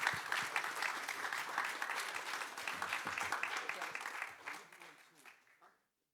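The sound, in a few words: audience applause at a livestreamed event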